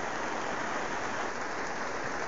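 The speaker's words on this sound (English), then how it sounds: "The rain's slowing down a little bit" Steady rain drums on a frozen PVC greenhouse in a summer downpour, a soft, even hiss of drops heard close and alone.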